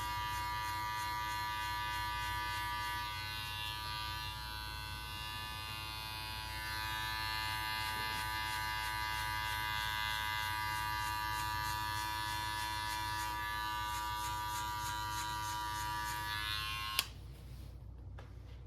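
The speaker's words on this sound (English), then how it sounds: "Now Amir has fully closed the lever and he's going to be just attacking that line there, making sure he doesn't go up too far up." Electric hair clippers cutting a fade buzz steadily and close up for a long stretch without talking, then switch off abruptly near the end, leaving a short rustle.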